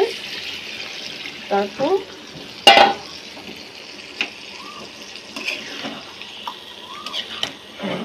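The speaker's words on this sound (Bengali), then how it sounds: "এই যে এটুকু পানি দিয়ে মুরগিটা কষানো হবে" A little water goes into a pan of chicken being braised with spices, giving short splashy bursts and a light sizzle amid a quiet kitchen, with a voice speaking now and then.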